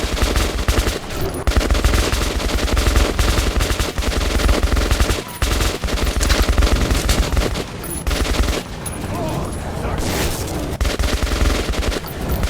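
Sustained automatic gunfire in the video game Metro 2033 Redux, loud dense bursts of rapid shots running almost continuously with only brief pauses.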